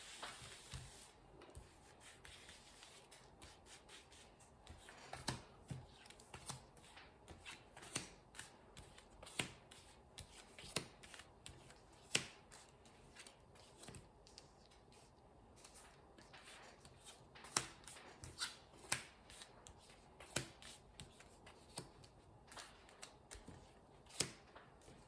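Tarot cards being shuffled and drawn for a thirteen-card spread, with soft rubbing and a steady run of sharp little snaps and flicks close by, quiet and without talk.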